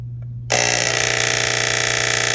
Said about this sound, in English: I turn the timer on. It's gonna make a lot of racket.